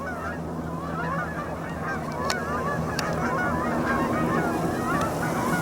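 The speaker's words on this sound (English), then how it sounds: "There's like 5 gaggles of geese in a row." Several gaggles of geese honk steadily at close to middle distance, with overlapping calls in a continuous chorus over a low ambient rumble along an outdoor running course.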